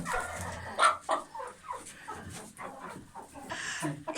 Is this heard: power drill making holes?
no